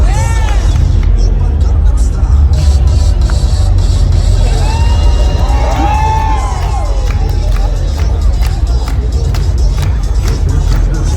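A convention crowd cheers, whoops and claps for a dancer on the dance floor, a dense, loud roar of voices and applause close around with shouts rising above it throughout.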